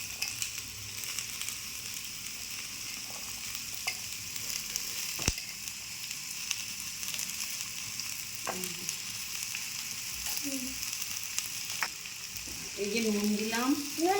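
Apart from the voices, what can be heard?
potato and cauliflower filling frying in pan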